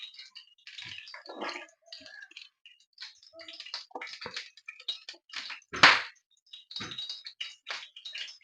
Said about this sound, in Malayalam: പാനിൽ കുറച്ച് വെള്ളം ഉണ്ടായിരുന്നു അതാണ് പൊട്ടിത്തെടുക്കുന്നത്